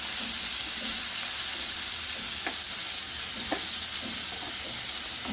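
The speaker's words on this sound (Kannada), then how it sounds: "ಸೊ ನೀವೀಗ ನೋಡ್ತಾ ಇದ್ದೀರಾ, ಇದು ಆಲ್ಮೋಸ್ಟ್ ಫ್ರೈ ಆಗಿದೆ ಆನಿಯನ್ಸ್" Chopped onions sauté in a hot pan, a steady close sizzle with a few soft stirring scrapes and no talking.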